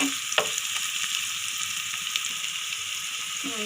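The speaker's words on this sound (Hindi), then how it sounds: "इसके अंदर हम इसको थोड़ा सा प्याज को ब्राउन नहीं हमने करना, बस इसके अंदर हमने थोड़ा सा इसको" Onions frying in oil in a pan make a steady, continuous sizzle and crackle throughout, with a few faint utensil taps.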